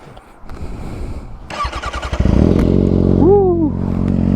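A Kawasaki ZX6R motorcycle engine cranks and fires up, then settles into a loud, rumbling idle with a quick rev, close to the microphone.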